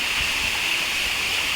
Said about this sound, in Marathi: बघा इथं धबधबा आहे